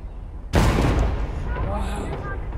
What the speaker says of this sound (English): Oh, the cannons. Scared the shit out of me.